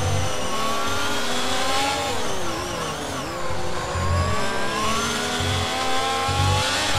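A race car engine in a racing video game holds a buzzing, high-revving drone as it dives into the pit lane, its pitch sliding and wavering, with brief dips and recoveries in throttle.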